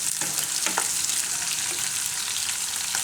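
Green chillies frying in hot oil over a medium gas flame for a Gujarati dahi marcha shaak, a steady close hiss with a few brief stirring scrapes, no talking.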